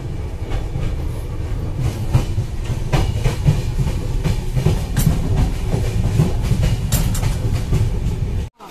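The Saraighat Express from Kolkata to Guwahati rolls along the rails, a loud, steady rumble heard from inside the coach with rhythmic clickety-clack over the joints, ending abruptly.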